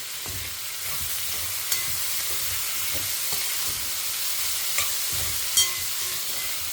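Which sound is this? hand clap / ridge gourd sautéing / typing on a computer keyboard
ridge gourd sautéing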